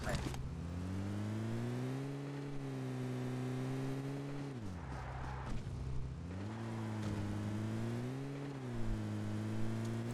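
A vehicle engine in PUBG Mobile drones steadily with rising and falling revs, a loud continuous hum that dips briefly mid-way before climbing again, with voice chat over it.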